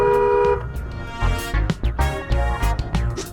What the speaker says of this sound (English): You can't hear it over my honking, but she honked back.